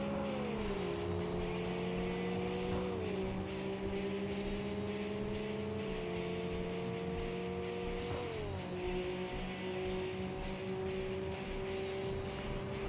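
A Lotus Esprit V8 Turbo in a racing video game revs up through its gears, engine pitch climbing and dropping at each shift, a sustained moderate drone heard alone.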